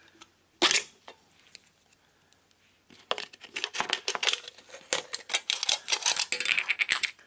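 Scissors cut through the bottom of an aluminium Coca-Cola can, first a single sharp crunch, then after a quiet pause a run of rapid crinkling, snipping metal sounds, close and fairly loud.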